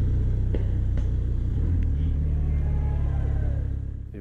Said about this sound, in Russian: прям два транспорта остановилось возле меня